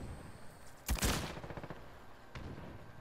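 Automatic gunfire in Call of Duty: Modern Warfare: one loud, close burst of rapid shots, followed by a quieter single report a moment later against a low ambient background.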